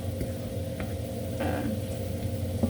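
Meat frying in a pan with onion and vinegar makes a steady moderate sizzle, with a few stirring scrapes and bubbling bursts near the middle, and no one talking.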